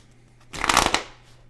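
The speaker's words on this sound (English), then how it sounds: "Give it a shuffle." A quick riffle of cards being shuffled, a brief burst of rapid flicking close by, with quiet on either side.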